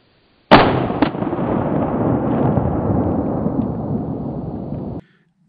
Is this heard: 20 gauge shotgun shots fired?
yes